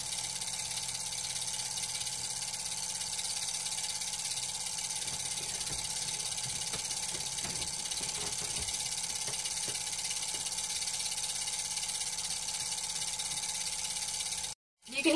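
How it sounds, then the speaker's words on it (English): An RV water pump runs during winterization while antifreeze is pushed through the water lines, making a constant, fairly loud mechanical whir with faint irregular ticking mixed in, stopping abruptly near the end. "You can hear our pump still running,"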